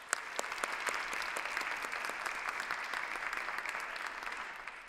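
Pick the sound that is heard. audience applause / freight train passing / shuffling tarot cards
audience applause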